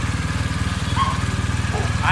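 Several motorcycle engines running steadily close by during cold starts in a garage, a continuous pulsing idle throughout, with voices talking over it.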